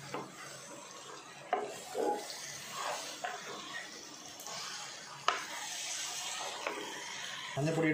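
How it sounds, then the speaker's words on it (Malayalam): Turmeric powder being stirred into chicken curry in a pan, with repeated scraping and clinking strokes of a spoon against the pan over a soft sizzle, close and moderately loud. "മഞ്ഞൾപ്പൊടി ഇട്ട് നമ്മൾ ഇളക്കി കൊടുക്കുക"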